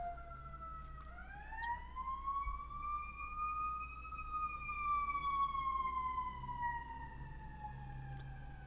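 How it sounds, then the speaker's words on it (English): A single wailing siren rises and slowly falls over several seconds, moderately distant, above a low rumble of background noise. "Can I ever tell which one is fire truck, which one is the police?"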